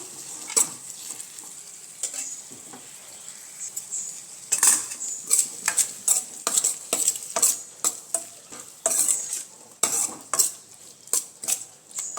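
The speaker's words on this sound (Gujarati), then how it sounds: "બાફેલા બટેકા ઉમેરી દીધા છે અને તેને પણ સરસ રીતે મિક્સ કરી લઈશું" A spoon scrapes and clinks repeatedly against a pan while boiled potatoes are mixed into poha, in a brisk, uneven rhythm of close metallic strokes over a faint background hiss.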